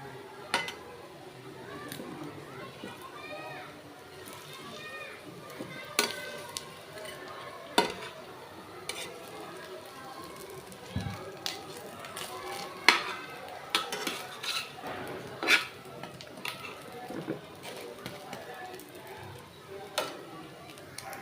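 Rotis frying in a pan on a home stove, with a low sizzle beneath repeated sharp clinks and scrapes of a spatula and utensils as they are flipped, close and intermittent.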